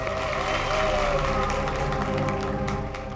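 Applause from an audience at a charity event, a sustained wash of clapping heard under and beside loud talk and music for the whole stretch.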